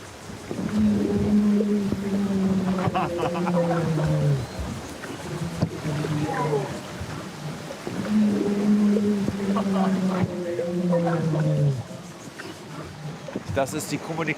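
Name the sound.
humpback whale calls via hydrophone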